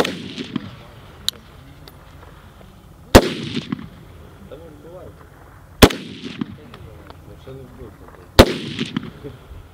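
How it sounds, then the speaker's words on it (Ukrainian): Gunshots ring out at night-time military shooting practice: four loud, sharp cracks spaced a few seconds apart, plus a fainter pop early on, with quiet voices murmuring between shots. "Особовий склад проводить стрільбу для порівняння."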